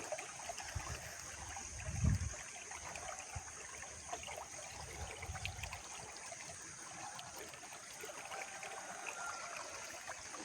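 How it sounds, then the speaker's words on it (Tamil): Faint, steady trickle of water flowing in a stream, a soft continuous babble with a few low rumbles early on, no voices. "எவ்வளோ அழகாக தண்ணி போகுது"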